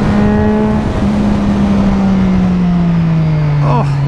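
A loud, steady Triumph Daytona 675R sport motorcycle engine drone during a wheelie holds a high pitch that slowly sags, close and continuous, with wind buffeting underneath and no speech.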